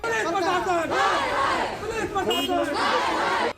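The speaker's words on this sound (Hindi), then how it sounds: "गुस्साई भीड़ ने सड़क पर आगजनी शुरू कर दी और जमकर हंगामा किया" An angry crowd raising an uproar on a street outside a police station during a protest with arson, a dense mass of shouting voices that stays loud and continuous throughout.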